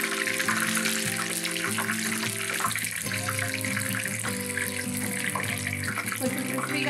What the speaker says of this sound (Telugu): ఆయిల్ హీట్ ఎక్కిందండి, నేను ముందుగానే కడిగి పెట్టుకున్న కరివేపాకు యాడ్ చేసుకుంటున్నాను.